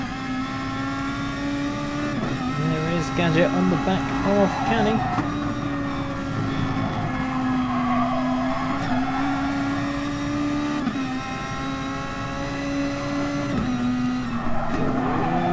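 Group 2 race cars on low fuel and fresh tyres running through a fast section in a racing game, engines droning and shifting pitch continuously close by, with a commentator talking over the steady racing noise.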